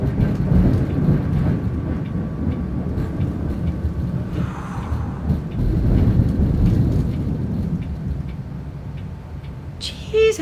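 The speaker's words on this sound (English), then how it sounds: "It's been storming all day, and into the night. Thunder and everything." A night thunderstorm pours steady rain while low thunder rolls and rumbles through, followed by a short sharp crack near the end.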